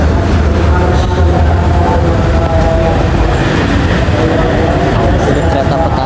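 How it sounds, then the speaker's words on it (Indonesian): A farmers' and traders' train on an Indonesian line rumbles past close by, a loud steady roar of rolling wagons that fills the whole stretch without pause. "Ini kereta petani, khusus petani dan pedagang, asik."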